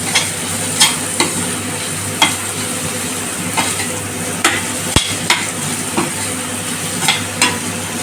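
Tomatoes, seeded and juiced, fry for chilli chicken in a pan with earlier-fried ingredients, giving a steady close sizzle broken by repeated sharp scrapes and clinks of stirring, with no talking.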